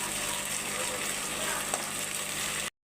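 Peas fry in a pan right after carrots for a vegetable paneer pulao, giving a steady close sizzle throughout with no talking, then cutting off abruptly near the end.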